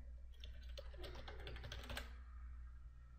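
A domain name is typed on a computer keyboard during Windows 7 domain setup: a quick run of close, light key clicks over about a second and a half, then quiet.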